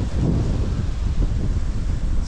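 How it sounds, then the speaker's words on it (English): Strong wind on a waterfront at Arklow in Wicklow, a steady loud roar of gusts buffeting the microphone with no pauses. "It's very windy here on the waterfront"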